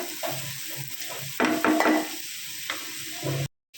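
Onions softening in salt in a pan while a utensil stirs them, with a steady close sizzle, a louder burst of stirring scrapes midway, and a brief cut to silence near the end.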